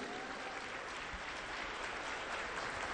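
A church congregation applauds in praise during a Spanish-language worship service after a deliverance prayer, a steady, dense wash of clapping that holds evenly throughout without pause.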